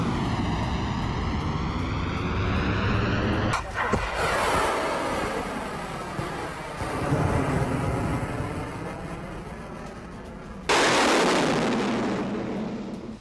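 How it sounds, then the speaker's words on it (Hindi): A cruise missile strikes its target in a war-zone attack, producing a loud, sustained roar and rumble of explosion, with a sharp blast surge about two thirds of the way through before the noise tails off. "ये तस्वीर आप देखिए किस तरह से क्रूज मिसाइल से टारगेट को हिट किया गया।"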